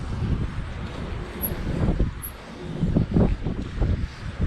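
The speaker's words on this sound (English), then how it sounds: "Nice bit of wind around today." Wind buffeting a microphone during an electric bike ride on a hot day, with a continuous rumbling roar and gusty low surges, fairly steady throughout and no talk.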